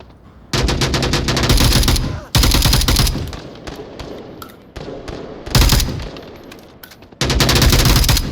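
Loud, near gunfire from the VR shooter game Onward comes in dense automatic bursts separated by short lulls. The bursts are heavy and rapid, with quieter scattered shots between them.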